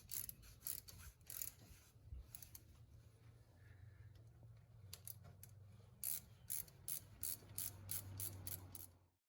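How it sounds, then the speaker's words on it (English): A socket and ratchet tightening the two caliper bolts on the front brakes of a 2005 Ford F150, quick bursts of sharp ratcheting clicks near the mic, separated by brief quiet gaps. "Tighten the two bolts with a 13mm socket and ratchet."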